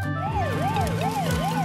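Cartoon fire engine siren wailing in a steady rising and falling cycle, repeating about four times in quick succession, clear and alone without voices.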